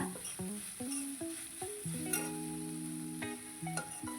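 Vegetables fry in butter in a pan on a gas stove, a steady soft sizzle running throughout, broken by repeated clinks and scrapes of a utensil stirring against the pan.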